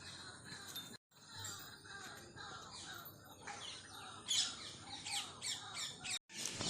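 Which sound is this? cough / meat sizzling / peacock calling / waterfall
peacock calling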